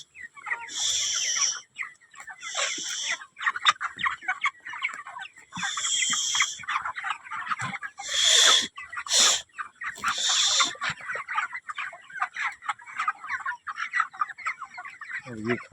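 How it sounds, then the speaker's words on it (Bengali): Chickens packed into a crowded coop cluck and squawk near the microphone, with repeated loud bursts of calls over a constant busy background of clucking. "ঘরে মুরগি অত্যন্ত চাপ"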